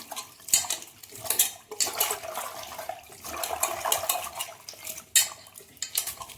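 Small bitter gourds swished and rattled in salt water inside a metal pot, with sloshing water and repeated clanks of vegetables and utensil against the pot, loud and close, no talking.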